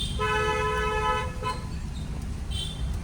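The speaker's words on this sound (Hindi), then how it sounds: "हॉर्न।" A car horn blares in one long honk, then gives a brief second toot, over a low rumble of engines and traffic.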